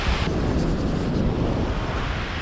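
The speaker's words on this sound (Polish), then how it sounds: "Jesteśmy przy wodospadzie i strasznie leje z niego w nas. Wiatr wieje, kurna." Wind gusting hard beside a waterfall in Iceland, a steady loud roar of rushing air and spray that buffets the microphone with no pauses throughout.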